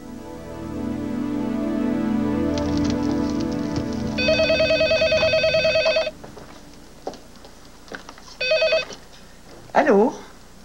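A telephone bell rings in repeated bursts, clear and close, with a low musical drone fading beneath it before the ringing stops and a voice answers.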